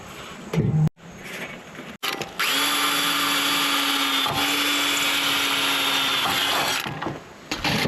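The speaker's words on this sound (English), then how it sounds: "I'm going to mark them real quick and then drill them through." A power drill bores through the wood of a DIY outdoor coffee table, a loud, steady whine lasting about four seconds after a few brief handling knocks, then winding down.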